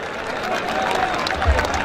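Steady, dense applause from a spectator crowd at an outdoor kabaddi match, the Ahmedgarh Kabaddi Cup 2013, filling the whole stretch with a loud, even wash of clapping and low crowd murmur.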